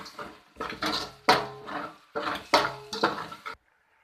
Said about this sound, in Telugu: ఇప్పుడు బాగా ఫ్రై చేసుకోవాలి వెజిటేబుల్స్ అంతా